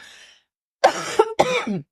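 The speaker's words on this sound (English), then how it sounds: "I'm coughing because I have a toddler." Two sharp, close coughs in quick succession after a brief faint sound and a short silence.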